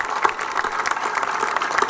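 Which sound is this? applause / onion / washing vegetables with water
applause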